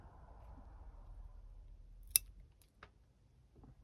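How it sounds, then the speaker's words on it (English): Pruning snips cut a Portulacaria afra branch with one sharp, close snap, then a couple of fainter clicks in a quiet room. "So let's snip this back."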